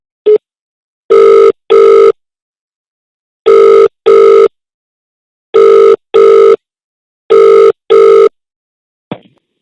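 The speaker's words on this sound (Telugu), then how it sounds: "మీకు కాల్ వస్తుంది, దయచేసి లిఫ్ట్ చేయండి" A telephone rings loudly and clearly, sounding repeated double-burst rings that come at steady intervals, with no talking over them.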